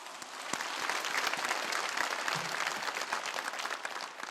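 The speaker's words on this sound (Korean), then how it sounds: "하나님께 영광의 박수 칩시다" A church congregation gives a round of applause to God during a sermon, an even, moderately distant patter of many hands clapping continuously for about four seconds.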